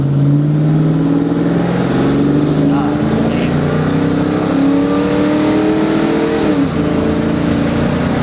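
A 1994 Ford Mustang GT with its 5.0 V8 revs hard while accelerating, the loud exhaust rising steadily in pitch, then dipping briefly at a shift before climbing again, recorded close and continuous.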